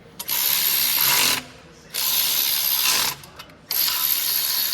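A ratcheting gear wrench clicks in three bursts of fast, buzzy ratchet ticks, close by, with short pauses between strokes, during repair of a truck's cracked injector bore.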